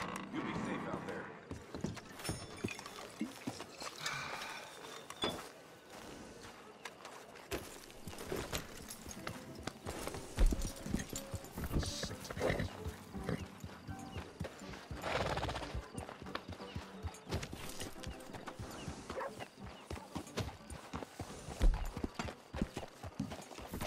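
Horse hooves in Red Dead Redemption 2 clip-clop in an uneven, continuous rhythm, with occasional whinnies, saddle creaks and people talking over the top.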